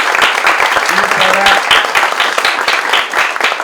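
Steady applause fills a room at a student research journal presentation, continuous dense clapping from a seated audience throughout, with a speaking voice faintly over it.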